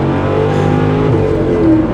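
Nitrous-boosted Mercedes V8 AMG accelerating hard in a drag race against a gutted V6 E320, a loud sustained engine roar with steady harmonic drone filling the whole moment, no voices.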